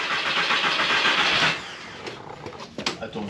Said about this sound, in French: Elle va démarrer.